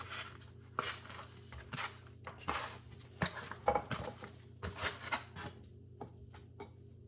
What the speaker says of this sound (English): Okay, beef going in.